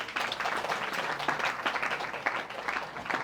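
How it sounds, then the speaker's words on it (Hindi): Audience applause for a family at a Hare Krishna house program in a Chandigarh housing society, a steady, dense burst of many hands clapping together nearby, with no talk over it. "इन परिवार के लिए एक बार जोर से ताली बजा दीजिए"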